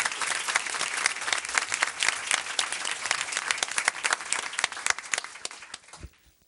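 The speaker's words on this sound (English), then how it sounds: "And I ask for one final round of applause for these." A school board meeting audience gives a final round of applause for Holmes Middle School students, dense clapping that fades out toward the end.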